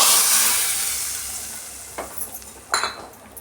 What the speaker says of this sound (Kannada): ನೋಡಿ, ಒಗ್ಗರಣೆನ ಸಾರಿಗೆ ಸೇರಿಸ್ತಾ ಇದ್ದೀನಿ